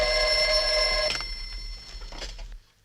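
An old-style telephone bell rings in a continuous metallic trill for about a second, then its ringing falters and mixes with softer clicks and rustling before the sound drops away near the end.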